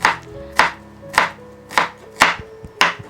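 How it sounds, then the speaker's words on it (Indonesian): Knife chopping shallots finely on a board for a savory ground-meat bread filling, six sharp, evenly spaced chops about half a second apart, close and clear with no voices. "Bawang-bawang ini dicincang halus karena daging giling untuk isian rotinya nanti."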